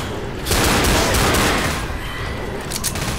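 Rapid pistol gunfire in Left 4 Dead, a dense burst of loud, close shots fired one after another for about two seconds, then thinning to a few scattered reports.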